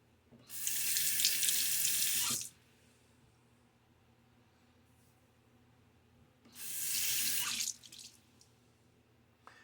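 Tap water gushes into a bathroom sink in two loud, steady bursts of about two seconds each while a face is rinsed after shaving, with quiet splashing and drips between them.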